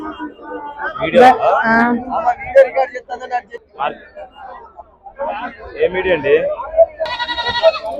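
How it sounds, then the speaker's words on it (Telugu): Male goats bleat amid a lively crowd at Chillakallu market, their cries mixing with nearby people talking in a busy, noisy market. "ఇక్కడ ఒక చిన్న మేక పోతులు ఉన్నాయి"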